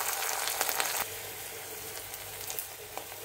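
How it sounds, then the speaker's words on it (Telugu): Mustard seeds, green chilies, curry leaves and dried red chilies sizzle and crackle in hot oil for a gourd and moong dal curry, with a brief burst of sharp popping at the start that settles into a steady, moderate fry. "ఆయిల్ వేడెక్కాక పోపు గింజలు, పచ్చిమిర్చి, కరివేపాకు, ఎండుమిరపకాయలు, ఇంగువ వేసుకొని"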